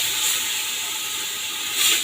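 Beef hitting a pan of frying spice masala sets off a dense, continuous sizzle, close and even, swelling slightly at the start and again just before it ends.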